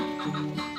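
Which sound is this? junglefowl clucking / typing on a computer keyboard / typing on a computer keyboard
junglefowl clucking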